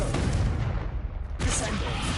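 Confringo explosive spell blasting in Hogwarts Legacy, a loud booming burst that cuts off mid-clip and then erupts again with a bright crackling impact, close and forceful.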